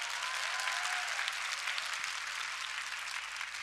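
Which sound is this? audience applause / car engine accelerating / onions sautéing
audience applause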